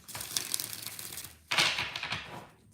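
A deck of tarot cards is shuffled briskly nearby in two quick bursts of riffling, papery clatter, with no talk over it.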